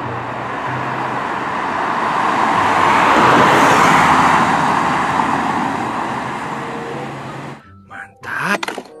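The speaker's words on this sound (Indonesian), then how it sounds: "Wow, mobil polisi teman-teman" Police car passing by on a road, a broad traffic whoosh that swells to a peak midway and fades away, followed by a few brief clunks near the end.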